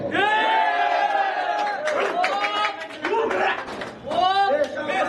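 A loud crowd at a rap battle cheers and shouts together, many voices whooping in sustained bursts that dip briefly and then surge again.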